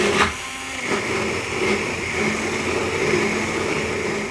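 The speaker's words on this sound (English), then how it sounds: "The texture changes as you maneuver the blender through the soup." A hand blender purees thick soup in a pan with a steady, close, continuous whirring buzz that holds an even level throughout, with no voices.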